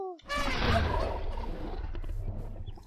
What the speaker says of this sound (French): Il y a une dinde.